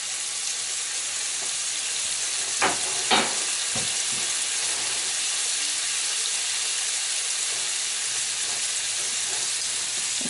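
Shrimp with minced garlic sizzles steadily in a hot pan, a continuous loud frying hiss with a couple of sharp clatters of stirring early on and no talking.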